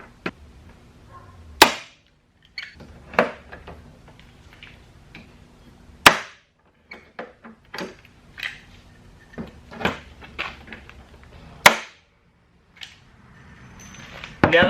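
Pop rivets being set while fitting a KBD body kit on a Mazda Miata: a run of sharp, separate snapping pops at uneven intervals, some loud and close, with small handling clicks and rustles between them.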